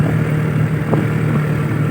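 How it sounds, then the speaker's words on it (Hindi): Traffic on a road in Pakistan gives a steady, close engine hum with a low drone, as if a car or motorcycle is idling or rolling by, without clear separate passes. "बड़ी प्यारी गड्डियाँ क्या जा रही हैं, मोटरसाइकिल जा रहे माशाल्लाह जी"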